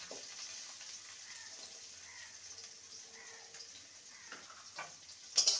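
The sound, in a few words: chopped garlic and onion frying in refined oil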